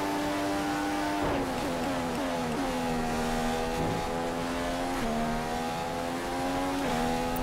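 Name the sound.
F1 racing car engine in video game F1 2015 at Monza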